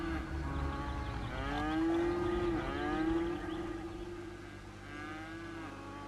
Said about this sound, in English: Some cows and more cows.